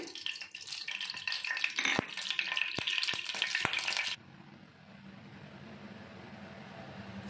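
Oil sizzles and spits loudly in a pan while cooking drumstick leaf bharta, with sharp crackles over steady frying, then drops suddenly to a faint, low simmer.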